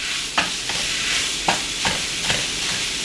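Sausage browns in a hot pan with a steady loud sizzle while a utensil scrapes and stirs, breaking the meat into small bits, with several sharp scraping strokes.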